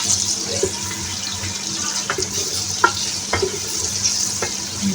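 Chopped onions going into hot oil in a pan for a home-style palak chicken, with a steady close sizzle and a few soft stirring scrapes and clicks, no talking.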